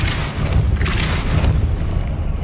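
A dense, rumbling magical blast from the Depulso spell in Hogwarts Legacy, a steady loud boom with whooshing texture sustained for a couple of seconds.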